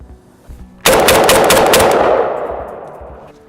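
A sharp, loud burst of rapid gunshots fired into a metal office filing cabinet, the volley erupting suddenly after near silence and then fading away in a long echoing decay.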